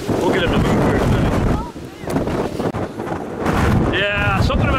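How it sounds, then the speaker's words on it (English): Strong wind buffets a handheld microphone outdoors in the desert near Palm Springs, California, a loud continuous broadband roar that dips briefly midway, with a voice speaking over it. "It's a bit windy out here, so it's hard to hold the camera still."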